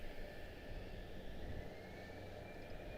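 A jet aircraft engine spools up at Charlotte-Douglas International airport, heard as a distant, steady, broadband roar with a faint rising whine and no one talking over it.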